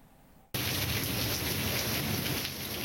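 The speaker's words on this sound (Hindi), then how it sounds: "शिमाल मशरकी बलूचिस्तान में तेज बारिश से सैलाबी सूरत हाल का इम्कान है।" Torrential rain pours down in a dense, steady roar that starts abruptly and continues loud and unbroken, with a low rumble of thunder beneath it.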